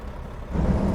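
Truck air brakes in American Truck Simulator, a short low hiss and rumble that swells louder in the second half of a brief burst.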